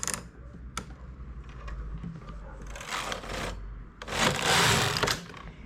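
A knitting machine knits the tubular start of a poncho: carriage clicks and mechanical rattles, then two louder, longer swishing passes of the carriage sliding across the needle bed, close and without voices.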